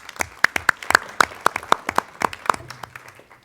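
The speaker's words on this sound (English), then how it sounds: "And a round of applause for our special guests." An audience gives a round of applause for special guests at a school board meeting, a short burst of steady, close clapping from a modest indoor crowd with no talk over it.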